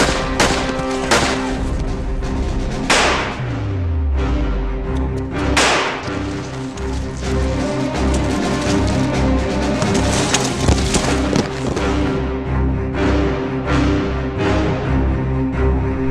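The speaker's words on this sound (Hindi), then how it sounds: "अरे फायरिंग हो रही है, जल्दी आओ।" Gunfire bursts through a Hindi-dubbed action movie scene, loud sharp cracks and thumps scattered unevenly over a dense bed of score and effects, with booming low impacts among the shots.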